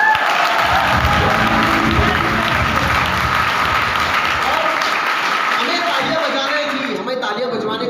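Seminar audience clapping and cheering, loud sustained applause from a crowded hall with voices mixed in, easing slightly toward the end.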